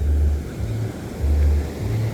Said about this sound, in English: Got a few surfers out there catching some waves.